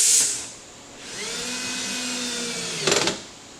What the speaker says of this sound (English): we're ready to fasten the legs to the wall using those Torx screws